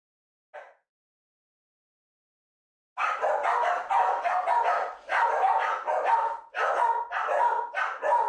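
A dog barks in a video game: one short yip, a pause of silence, then a run of loud, close barks in quick bursts.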